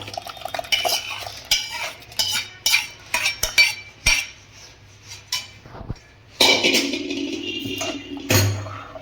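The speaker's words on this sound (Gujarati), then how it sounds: "હવે આપણે બધો વઘાર કુકરમાં નાખી દેવાનો છે દાળની અંદર." Hot spiced tempering goes into dal in a pressure cooker, with sharp metal spoon clanks and scrapes against the pot and a few short bursts of sizzle. No one speaks.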